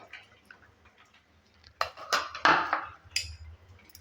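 A spoon stirs paratha dough with oil and other ingredients in a bowl, making a few soft, scattered clinks and scrapes against the bowl that grow slightly busier toward the end. The sound is quiet and close, with no talking.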